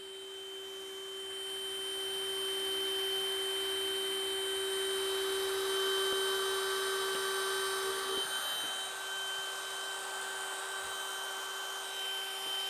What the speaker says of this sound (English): it runs the drill motor just fine